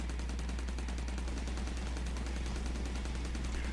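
A bullet autocannon in Steredenn fires in a rapid, unbroken stream of shots for several seconds, steady and moderately loud over a low droning hum, with no voices.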